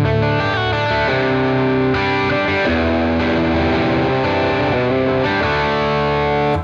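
Distorted electric guitar played through an amp model on a Fractal Audio Axe-Fx II processor, sustained chords and notes ringing loud and close for several seconds without any talk.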